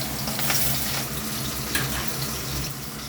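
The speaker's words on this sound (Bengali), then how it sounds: "এবার পেঁয়াজগুলো অল্প ভেজে নেব" Onions frying in a pan for a chilli chicken recipe, a steady broadband sizzle that hisses continuously at close range, with no talk over it.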